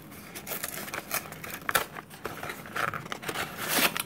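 The white paper wrapping of a chicken cup noodle being pulled open, giving a close, continuous crinkling and rustling with small tearing bursts throughout.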